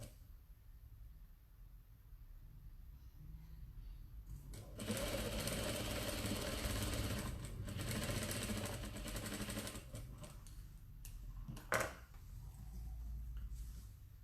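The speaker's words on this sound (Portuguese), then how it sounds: "E vamos costurar aqui." Sewing machine stitching a strip-pieced table runner in a rapid mechanical whir, starting after quiet handling sounds, running for several seconds with slight pauses, then resuming softer after a sharp click.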